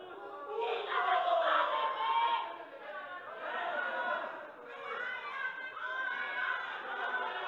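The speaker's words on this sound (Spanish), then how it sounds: "Hay abucheos, hay gritos." A wrestling arena crowd in a divided mood, booing and shouting in rolling surges of mixed voices, moderately loud and continuous without a break.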